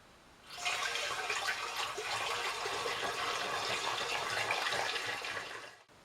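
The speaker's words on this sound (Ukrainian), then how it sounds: "заливаємо нашу виноградну чачу" Homemade grape chacha is poured into water in a glass bottle: a steady, close gurgling pour runs for about five seconds, then tapers off.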